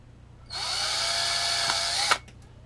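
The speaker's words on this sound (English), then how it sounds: "I'm drilling all these holes" A power drill drilling holes for a DIY aquarium sponge filter whirs steadily for about a second and a half, then cuts off abruptly with a brief clunk, loud and close.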